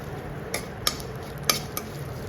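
Sesame seeds stir-fried in a pan for potato curry give a faint, steady sizzle, with four soft clinks of a spoon against the pan spaced through the short stretch.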